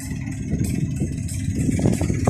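A Mitsubishi L200 pickup engine runs steadily during routine workshop servicing, a loud continuous mid-range rumble with slight surges like light revving, heard close up with no talk.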